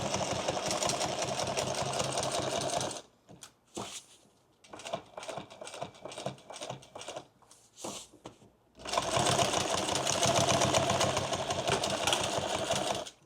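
A sewing machine stitching a ballistic nylon duffle bag runs in loud bursts, with its bobbin winder knocking; a rapid mechanical clatter gives way to a quieter stretch of scattered clicks and taps before the machine surges back to full speed.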